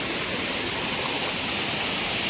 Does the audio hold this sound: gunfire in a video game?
no